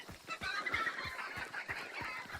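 Chickens cluck in a video game, a busy flock of short, repeated clucks and squawks layered over one another at moderate, steady volume, with no one talking.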